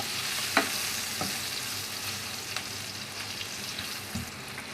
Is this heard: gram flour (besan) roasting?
yes